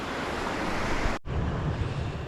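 A river flows past a campsite in the New South Wales high country, a dense steady rush of water with a momentary dropout partway through.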